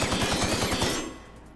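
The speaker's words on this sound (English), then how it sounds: "Can we just fire off rounds and not get in trouble?" Rapid automatic gunfire from rounds fired in The Outer Worlds video game, a fast stuttering burst of closely spaced shots lasting about a second before tailing off into a fading echo.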